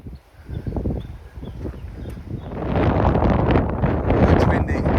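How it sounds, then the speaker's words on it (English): Gusty wind buffets the microphone on a hillside on the Camino de Santiago between A Picota and Cee, a low rumbling roar that swells louder and steadier in the second half. "It's windy."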